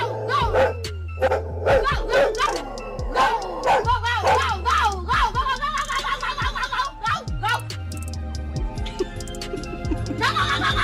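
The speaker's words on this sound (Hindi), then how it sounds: "घर के अंदर बंधा ये डॉग इन्हें देखकर बड़े ही जोरों से भौंकने लगता है" A dog tied up inside a house barks loudly and repeatedly in sharp close bursts, mixed with yips and whimpers, over a steady background hum, with voices heard at times.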